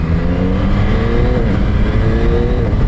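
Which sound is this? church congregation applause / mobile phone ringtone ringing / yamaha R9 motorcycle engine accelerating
yamaha R9 motorcycle engine accelerating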